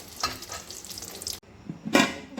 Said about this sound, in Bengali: এখানে মাছ ভাজা করছি, কয়েকটা পিস মাছ ছিল, এটা ভেজে নেবো